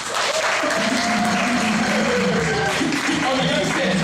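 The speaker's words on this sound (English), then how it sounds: "so give yourselves a round of applause" A live audience at a stage performance bursts into a round of applause, a dense, steady wash of many hands clapping at once that stays loud and unbroken throughout, with some voices mixed in.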